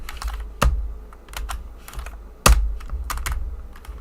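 Typing on a computer keyboard, close and steady, with a rapid patter of key clicks and two sharp, heavier thumps like the spacebar or enter key being struck, no voices.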